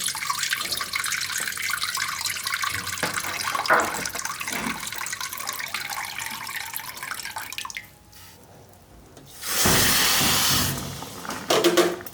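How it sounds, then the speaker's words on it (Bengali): Water poured into a pot of sugar for papaya chutney, a steady liquid pour and splash near the mic, with a louder gush toward the end and no talk. "জল দিলাম।"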